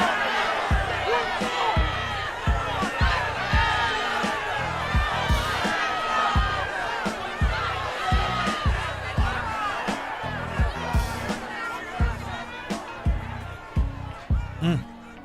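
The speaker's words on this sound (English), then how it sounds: "You can hear the crowd saying like "fuck you" and cursing them out." Crowd at a Trump rally shouting and cursing after a shooting, a dense mass of agitated voices and yells with sharp knocks and bangs scattered through, loud and continuous.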